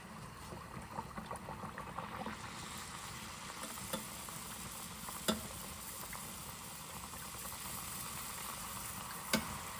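Kombdi vada dough frying in hot oil for a Malvani meal: a steady, close bubbling sizzle runs throughout, with a couple of faint clicks over the continuous frying and no talking.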